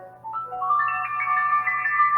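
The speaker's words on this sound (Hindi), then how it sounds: "फिर भी एक दिन अशोक का फोन आया।" A telephone ringtone plays a bright electronic melody of rising then sustained notes, loud and clear with nothing else behind it.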